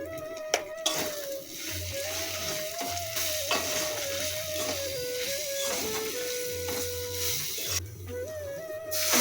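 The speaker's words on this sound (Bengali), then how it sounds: "মশলাটা একটুখানি কষিয়ে নিয়ে মা ডালটা দিয়ে দিল।" Spices fried in a pan with dal added, a steady loud sizzle with repeated stirring scrapes and a few utensil knocks throughout, no talking.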